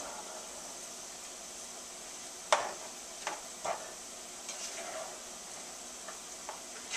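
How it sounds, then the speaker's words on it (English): A spoon stirs chopped green onions and other ingredients in a saucepan, faint quiet scraping and clinks at irregular moments over a soft steady sizzle. "Now that everything's been added to the saucepan, I'm going to stir it all up together."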